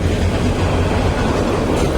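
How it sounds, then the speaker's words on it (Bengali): The Intercity Howrah Express rolls into a station, a loud, close, continuous rumble of wheels and carriages with a faint rhythmic clatter, filling the whole moment with no voices. "ওই যে ট্রেন অলরেডি স্টেশনে ঢুকে গেছে।"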